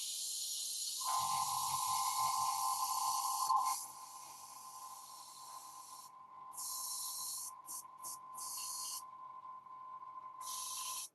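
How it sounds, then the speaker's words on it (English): An airbrush sprays a thicker coat of paint onto a figure, a steady close hiss broken by several short on-off bursts of spray over a faint constant tone. "So I'm gonna apply a thicker coat with the airbrush."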